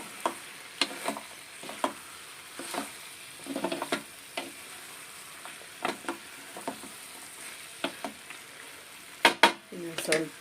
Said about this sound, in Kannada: ಇನ್ನೊಂದು ಸತಿ ಮಿಕ್ಸ್ ಮಾಡಬೇಕು ಟೊಮೊಟೊ ಫುಲ್ ಸಾಫ್ಟ್ ಆಗಬೇಕು